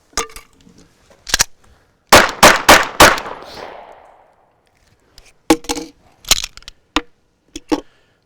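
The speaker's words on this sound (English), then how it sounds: "I was able to rack the slide on the firearm after I retrieved it and put shots on target relatively quickly." Handgun shots fired at a 3-gun match after a hidden compartment in a table's front face is pulled open: a few scattered sharp cracks, then a quick string of four loud close shots, followed by more spaced bursts of shots.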